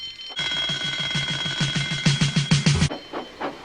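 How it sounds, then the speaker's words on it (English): A loud, rapid mechanical alarm bell rings for a few seconds in a Thomas the Tank Engine scene calling out the breakdown train, then cuts off, leaving a quieter rhythmic steam-engine chuffing underneath. "Soon came the alarm."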